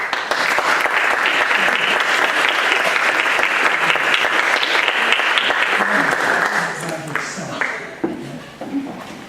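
A college audience at a Constitution Day event applauds loudly and steadily, the clapping fading after several seconds into scattered claps and a few voices.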